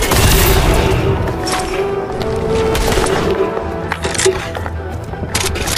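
Shotgun blasts and rapid gunfire in a video game, a dense, loud barrage of booming shots and impacts running throughout, with a voice faintly under it.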